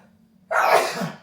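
A single sudden, forceful sneeze bursts out up close after a near-silent moment.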